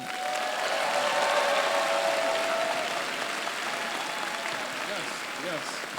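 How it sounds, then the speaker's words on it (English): Dense, steady applause from a commencement audience fills the hall for the full stretch, with a few voices and cheers mixed in beneath the clapping. "Let's give another round of applause to Mr. Rose and Miss Davis"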